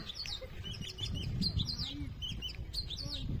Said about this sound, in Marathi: आवाज किती सुंदर येतोय बघा पक्ष्यांचा